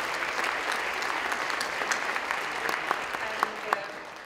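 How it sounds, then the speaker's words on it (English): A further round of audience applause for President Kersti Kaljulaid at the Tallinn Music Week conference: dense crowd clapping with a few sharper, closer claps standing out as it continues, heard from a moderate distance. "Another applause."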